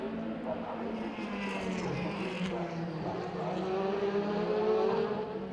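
A DTM race car at the Hockenheim circuit drives past with a steady, loud engine drone and rising harmonic whine, joined by other engine noise and under a commentator's talk.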